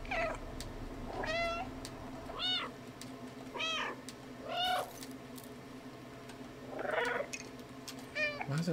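Repeated cat meows from the video game Stray, about five distinct calls spaced a second or so apart over a steady low game-ambience hum, with no talk over them.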